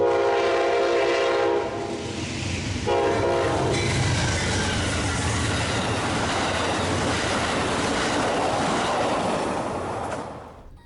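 An Amtrak Texas Eagle passenger train led by a P42 locomotive rolls past, its horn sounding loud and near at the start before a steady, broadband roar of the passing cars fills the rest, fading slightly at the end.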